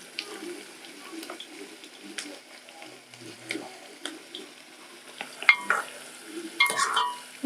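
Mukimo is stirred and fried with onions in a pan, giving a soft sizzle with scraping spoon strokes and a few louder clatters near the end, close and fairly quiet.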